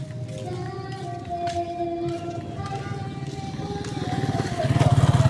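A motorcycle engine idles and revs nearby, its low rumble pulsing and growing louder toward the end, with faint voices in the background.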